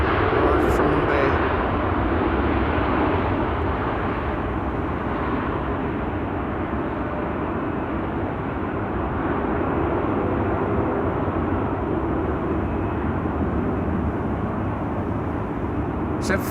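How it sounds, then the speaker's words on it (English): Boeing 747 rolling for departure to Frankfurt at Amsterdam Schiphol, a continuous broad engine roar and rumble that stays loud and steady throughout, with a voice talking over it. ".747 on the move for departure to Frankfurt."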